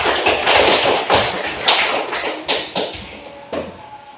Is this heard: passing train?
no